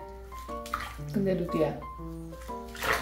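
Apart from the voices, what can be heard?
water washing a dog in a bath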